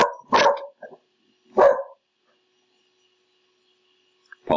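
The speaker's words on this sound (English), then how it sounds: "Apologise for the dogs." A dog barking indoors, two or three sharp, separate barks with long quiet gaps between them, fairly close and loud, followed by a faint start of another bark at the end.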